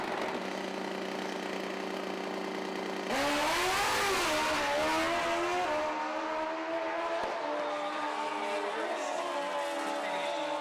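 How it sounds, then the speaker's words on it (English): A nitrous-assisted Suzuki drag racing motorcycle engine roars through a run, its revving note climbing and wavering loudly before easing off as the bike pulls away. "You can tell just by the very different note of this motorcycle that it is a different engine combination"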